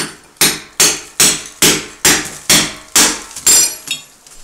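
Sharp metal hammer blows strike a chisel into a concrete wall about every half second, nine loud ringing hits in a steady rhythm with no talking.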